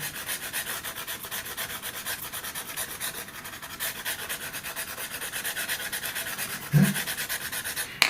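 An orange coloured pencil rubs steadily back and forth on paper in a close, soft, continuous scratchy rasp, with one brief louder knock near the end.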